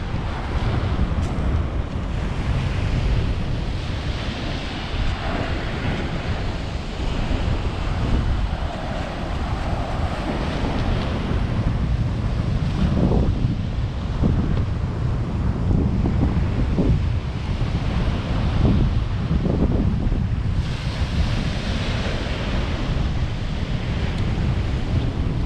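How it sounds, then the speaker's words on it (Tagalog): Strong ocean waves on a seashore, a continuous loud roar of surf with heavy wind buffeting the microphone and surges swelling and receding over the full stretch, no voices. "Lakas ng alon."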